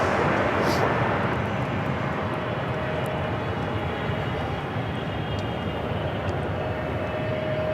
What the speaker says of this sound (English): We have Korean Air Cargo 777 freighter just touched down, coming in from Seoul